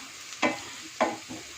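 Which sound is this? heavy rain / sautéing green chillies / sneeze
sautéing green chillies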